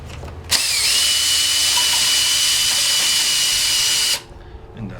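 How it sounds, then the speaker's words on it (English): A cordless drill spins out a Phillips set screw on the body of a Polaris 280 pool cleaner, a steady loud close whine for about four seconds that starts and stops abruptly. "It's Phillips, and I will use a cordless drill to get it out."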